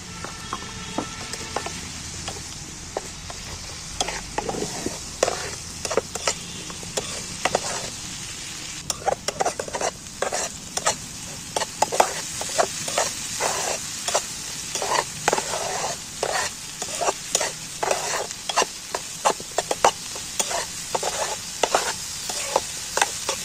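Spice paste sizzles steadily in hot oil for an egg recipe while a spoon stirs and scrapes the pan in frequent scratchy strokes.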